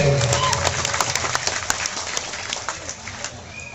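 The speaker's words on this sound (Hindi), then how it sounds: "जोरदार ताली" A public event audience breaks into loud applause, many hands clapping with distinct sharp claps standing out early, gradually tapering in intensity.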